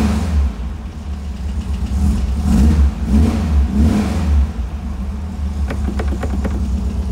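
A Porsche 356 Speedster replica engine runs close by and is revved in several smooth swells, then settles back to a steady idle.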